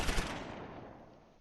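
Machine gun fire from a half-track in the Close Combat IV video game, a loud close rattle of rapid shots at the start that trails off into a fading, echoing tail.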